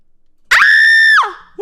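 A single loud, sharp scream from a submitted sound clip, normalized to full volume, shrill and sustained for under a second before breaking off, with a short second burst beginning at the end.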